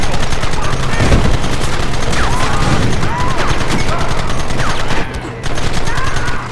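Rapid gunfire in the video game Red Dead Redemption, a dense, loud, continuous fusillade of overlapping shots, with shouting voices mixed in.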